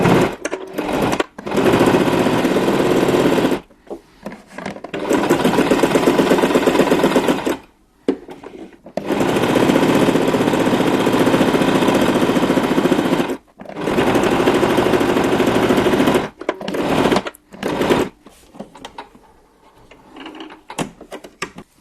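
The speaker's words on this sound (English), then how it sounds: "now we're just going to sew a top stitch all the way around the edge just to finish it off" A sewing machine runs a top stitch around the edge of a fabric pen holder, its needle chattering in steady, close bursts of several seconds each, separated by short pauses.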